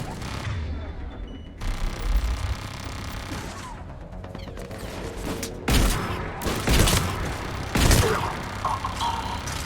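Shotgun blasts from the video game Mass Effect 3 boom out in several loud, spaced bursts over a busy layer of combat noise and clatter.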